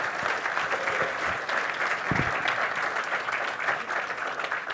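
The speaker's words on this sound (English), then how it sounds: "I'd like to offer a round of applause for our guests here today" An audience at a talk session on attention gives a round of applause for guest speakers, a full, even wash of clapping that holds steady for several seconds with no speech over it.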